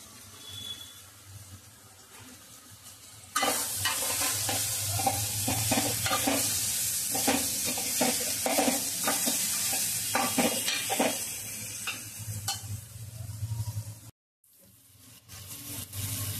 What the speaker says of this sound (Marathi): आता मी यामध्ये हे धुवून ठेवलेली कोळंबी, ही स्वच्छ धुवून ठेवलेली कोळंबी आहे